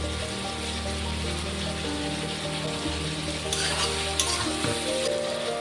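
Vegetable curry with spices, ridge gourd and potato frying in oil, giving a steady close sizzle with busy crackle and a few louder bursts of stirring toward the end.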